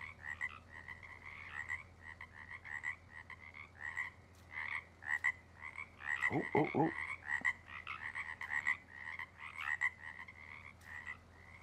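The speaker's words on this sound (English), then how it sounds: "Oh, even frogs." Frogs croak repeatedly in the Farming Simulator 19 video game, an irregular chorus of rhythmic croaks from an outdoor rural setting. A deeper burst of calls comes partway through, and a voice briefly exclaims once.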